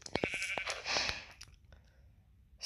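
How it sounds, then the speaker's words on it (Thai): Sheep bleat in a few short, fairly close calls near the start, with one later call trailing off into quiet, in a setting where many sheep are gathered. "แกะเยอะมากเลยไม่ไม่ได้คิดว่าจะมีแกะเยอะขนาดนี้"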